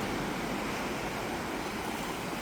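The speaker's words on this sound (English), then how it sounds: "it's a silence filled with the sound of waves" Sea waves wash continuously against Pan's Rocks at Ballycastle on a sunny day, a steady close hiss of surf with a slight breeze and no talking.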